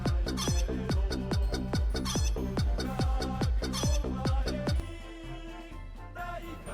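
Music plays from a visual novel game, with a bouncy beat of short, regular plucked notes and clucking mixed in. It stops near the end and leaves quieter tones behind.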